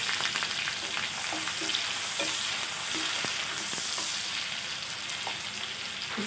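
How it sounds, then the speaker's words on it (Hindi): Green chili and finely chopped onion fry in oil in a pan for chana dal and lauki sabzi, a constant sizzle broken by soft, repeated stirring taps. "इसको गोल्डन ब्राउन होने तक भूनेंगे।"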